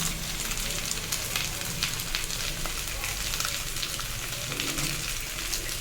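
Vegetables with Maggi masala stir-fried in a pan for veg noodles, giving a steady bright sizzle with scraping spatula strokes and small crackles, close and continuous.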